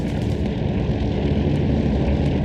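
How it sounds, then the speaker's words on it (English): Aircraft bombing run in the World War II video game Hell Let Loose during a German counterattack on D-Day, a loud, dense, continuous rumble of engines and explosions that fills the whole stretch without a break. "Here comes the bombing run."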